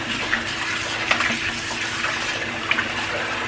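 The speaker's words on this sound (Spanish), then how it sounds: "le pongo agua suficiente hasta quitarle bien todo el limón" Water pours steadily from a tap over tripe being rinsed of lemon in a kitchen, a continuous splashing hiss with a few brief louder splashes.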